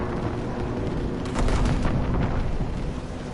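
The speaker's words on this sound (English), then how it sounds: "Heads up, we got more flak." Flak shells bursting around a damaged aircraft in the Call of Duty: WWII campaign, a dense, rumbling wash of booms and crackling blasts that swells louder midway and stays continuous with no speech.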